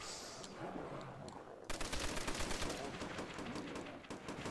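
Rapid bursts of gunfire from weapons in a zombie shooter game, a denser, louder volley kicking in partway through and continuing steadily to the end.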